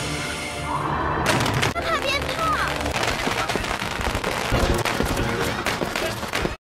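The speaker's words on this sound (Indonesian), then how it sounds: "Lalu dia meminta semua orang untuk menyalakan petasan tersebut." Firecrackers explode in a rapid, dense string of sharp cracks and pops, loud and sustained, with voices and background sound mixed underneath.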